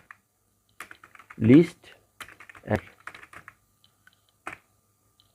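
Keys pressed on a computer keyboard during a Microsoft Word shortcut lesson, a few close, crisp clicks scattered between bursts of a man's speech.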